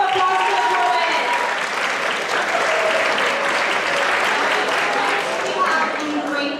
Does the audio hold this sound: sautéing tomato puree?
no